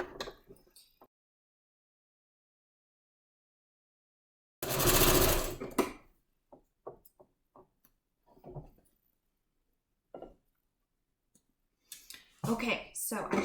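A sewing machine straight-stitching along a seam of a quilt-as-you-go strip runs in one loud sustained burst. Scattered clicks and spoken words come before and after in an otherwise quiet room.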